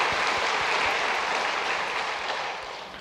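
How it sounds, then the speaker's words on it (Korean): A church congregation claps together to welcome a newcomer during a Sunday service, a loud dense burst of applause that thins toward the end. "큰 박수로 환영하겠습니다."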